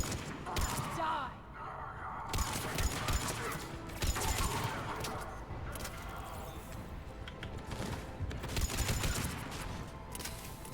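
Rapid gunfire with fire ammo in the shooter Mass Effect 3, bursts of shots and clattering combat effects running throughout, with a player talking over the action.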